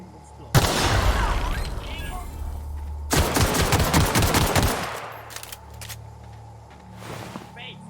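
A blast in the sci-fi game The Outer Worlds erupts suddenly and loudly, followed by a long roaring burst of rapid gunfire and scattered later shots, with a voice talking over parts of it.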